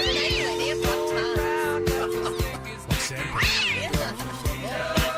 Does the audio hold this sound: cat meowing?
yes